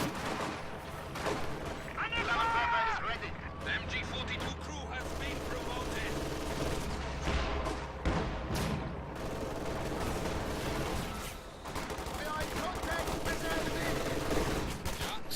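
MG42 machine gun suppression fire in a World War II strategy video game, sustained rapid bursts blending with other gunfire and distant explosions, loud and continuous throughout.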